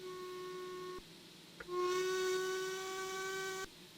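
Whistle of an Ivatt 2MT model locomotive sound unit, a steady multi-harmonic tone that cuts out and then returns louder and brighter for about two seconds over a faint hiss, with no talk.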